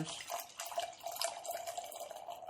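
Beer poured into a glass in a quiet room, a soft continuous splashing trickle with gentle fizzing that holds steady for a couple of seconds.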